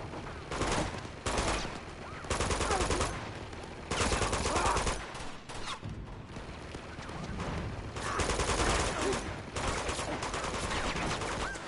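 Repeated bursts of gunfire in Uncharted 2 come in several clusters of rapid shots, some loud and close and others fainter, over a constant backdrop of game combat noise.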